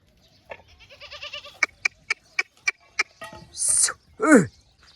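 A herd of goats bleats near a JCB digger. A few short calls come close together, then a loud wavering bleat, with brief speech and sharp knocks in between.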